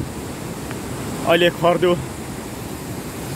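A large flow of river water rushes near a dam on the Khardu drinking-water project, a steady broadband roar throughout, briefly overlaid by someone speaking.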